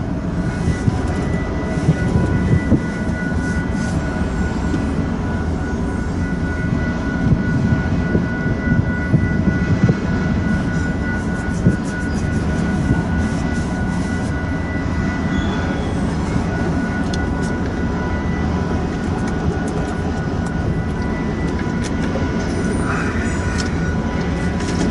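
An eastbound freight train of empty autorack cars rolls steadily past in Nebraska, a continuous loud rumble and clatter of wheels on rail with occasional squeals, close by and sustained throughout.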